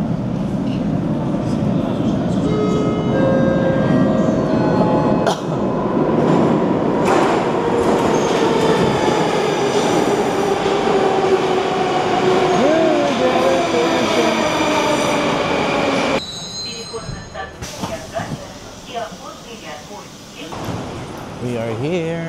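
A Moscow metro train pulls into a busy station at rush hour, a long rising rumble and whine with wheel squeal and rail clatter, then doors and quieter platform bustle; voices murmur around it.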